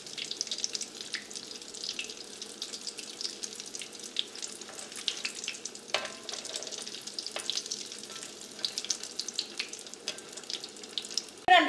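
Egg kabab (mutta kabab) sizzling steadily in hot oil, a continuous bright crackle with a few louder pops and spits, close and fairly loud, with no voices.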